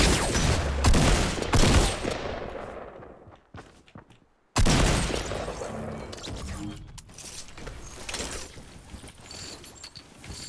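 Minigun fire in Fortnite, rapid bursts of loud gunfire with a brief gap of near silence midway, then sustained shooting continuing to the end.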